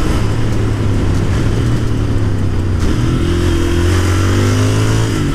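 A Royal Enfield Interceptor 650 twin-cylinder motorcycle engine pulls through the revs. A loud, close, steady drone rises in pitch toward the end as it accelerates.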